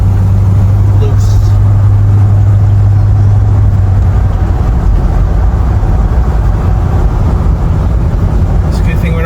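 Old converted van with its engine running, a loud, steady low rumble with a humming tone that drops out partway, likely a gear shift, with voices and road noise underneath.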